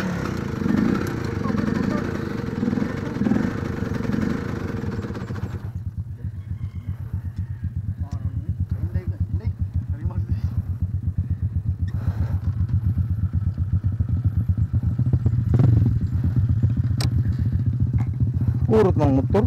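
A motorcycle engine on a trail ride runs steadily and close throughout, with a louder, rougher stretch at first and people talking over it at times.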